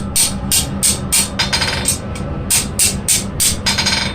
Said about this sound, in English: You just have to hammer on each side of that twist until it comes out.